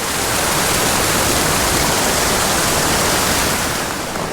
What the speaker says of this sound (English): I love fishing little high gradient, you know, steep pocket water streams like this